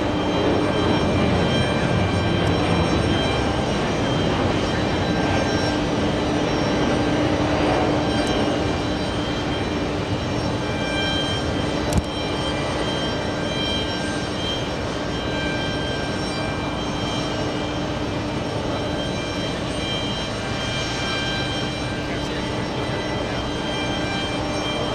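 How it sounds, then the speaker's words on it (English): A large Delta jet airliner taking off from JFK airport, bound for Amsterdam, producing a sustained loud engine roar that stays fairly even across the whole stretch and eases slightly toward the end. "We have a big Delta lifting off"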